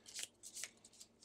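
Monster attack modifier cards for the Gloomhaven board game being shuffled, a few quick soft riffling bursts close by, with no voices.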